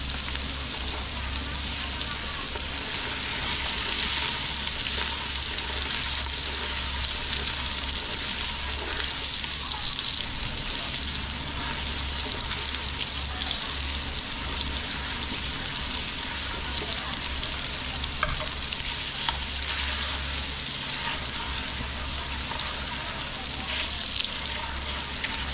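Ginger fries in a generous amount of cooking oil, a loud, dense, continuous sizzle that holds steady from start to finish, with faint stirring underneath.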